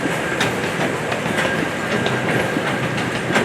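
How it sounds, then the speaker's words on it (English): A small zoo train rolls past on its track with a steady clickety-clack of wheels over rail joints, a continuous mid-distance rumble with regular clicks and no talking. "That's the sound of the train going by."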